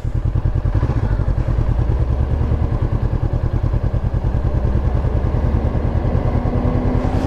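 A motorcycle engine runs steadily up close, its low, even firing pulses and mechanical clatter continuing without a break for the whole stretch, with no speech over it.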